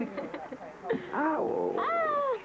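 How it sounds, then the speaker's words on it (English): Cat meowing nearby in a campground setting, a few short mewing calls followed by a longer drawn-out meow, with faint background noise. "A kitty."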